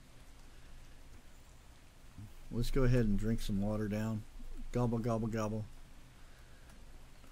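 Steady rain falls in the survival game ATLAS, a soft continuous hiss under a voice talking.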